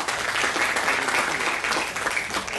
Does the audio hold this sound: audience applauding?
yes